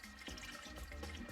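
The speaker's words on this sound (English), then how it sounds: "Now we add some white wine again." White wine pours into a pot of seafood stew with mussels, a brief, steady, close splashing trickle of liquid.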